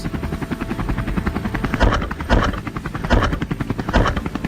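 Helicopter flying low during an aerial wild hog hunt, a loud continuous rotor thump with pulsing blade chop, steady and close, no talk.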